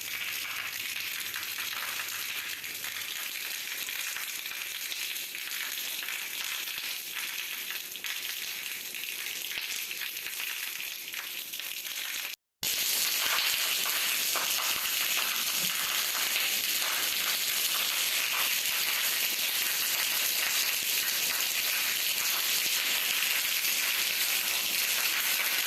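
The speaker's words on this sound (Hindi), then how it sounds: "आप सुन सकते हैं बारिश का आवाज़ कि कितनी तेज़ हो रही है बारिश।" Heavy monsoon rain pours down outside during a storm, a steady dense hiss that fills the whole clip with no talk, briefly cutting out midway before resuming slightly louder.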